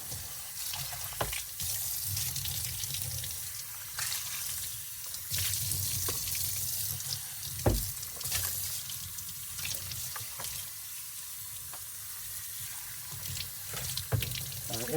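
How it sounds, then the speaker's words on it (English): A vacuum cleaner part is rinsed under a running tap, with a steady broad rush of water and splashing lasting throughout, fairly close and fluctuating as the part moves in the stream. "So I'm just going to kind of rinse the whole thing."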